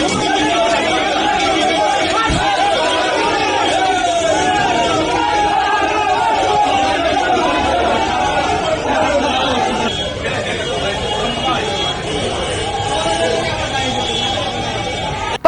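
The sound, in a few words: angry crowd shouting at arrested former TMC MLA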